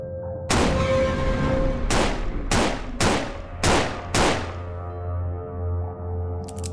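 Five sharp gunshots from the video game Skyland 1976 ring out at irregular intervals over about four seconds, each loud and followed by a decaying tail, with a low steady game hum continuing afterward.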